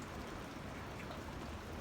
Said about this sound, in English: it's been raining for 12 hours now, just like this, real slow